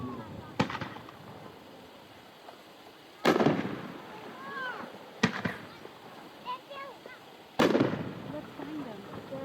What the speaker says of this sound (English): It's a Brocade reel with a red strobing waterfall piston.